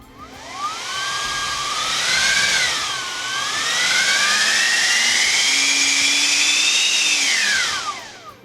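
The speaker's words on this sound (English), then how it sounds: "that was not even half throttle on this thing, guys. This is going to be a powerful motor." A Dr. Madthrust 12-blade ducted fan motor on a Freewing F-4 Phantom jet spooling up on a bench test, a loud steady turbine-like whine that climbs, dips, rises again and then winds down, close and alone.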